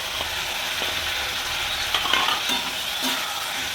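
Vegetables are stirred and fried in a pan while cooking a papaya, potato and fish curry, with a loud, close, continuous sizzle and intermittent scrapes and clinks of the stirring utensil, without any voices.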